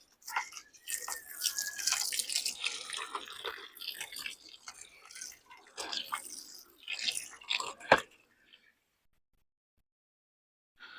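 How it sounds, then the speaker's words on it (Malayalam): Water is poured onto the soil of a potted aloe vera plant, a close, irregular trickling and splashing that comes in bursts for several seconds, ends with a sharp knock, then falls silent. "അപ്പം വെള്ളവും ഒഴിച്ചു"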